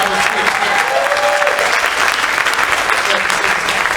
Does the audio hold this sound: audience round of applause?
yes